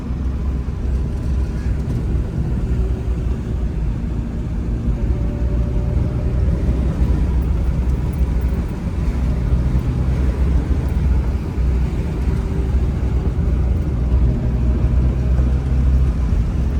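A car races along the road at around 100 to 120, giving a loud, steady interior rumble of engine and road noise that holds constant throughout with no clear talk.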